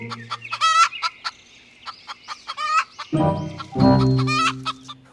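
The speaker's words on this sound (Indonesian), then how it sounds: "ini adalah ayam betina" A hen clucks close by in repeated bursts of quick, choppy calls, with a couple of longer, throatier squawks in the middle before the clucking resumes.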